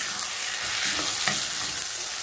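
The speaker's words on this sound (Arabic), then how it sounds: "بفضل اقلب فيه لحد ما ياخد لون بسيط كده، لونه يبدا يتغير" Rice sizzles and fries in oil and ghee in a pan while being stirred, giving a constant close crackling hiss with faint scraping strokes.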